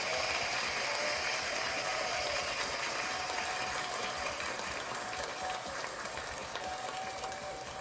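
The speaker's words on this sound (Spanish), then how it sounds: "vamos a darle su merecido aplauso al príncipe" Faint, steady applause, a soft continuous patter of clapping heard at a distance, with no voices over it and little change in level.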